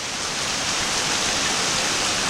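Steady rain falling outdoors over gardens, a dense continuous hiss of drops that stays even and fairly loud throughout with no voices.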